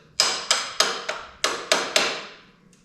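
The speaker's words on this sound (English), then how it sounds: "tap with a screwdriver" Six sharp metallic taps from a screwdriver seating a Rock Pro nerf bar part on a 2006 Yamaha Raptor 700 ATV, struck in a quick uneven rhythm, close and fairly loud, each ringing briefly.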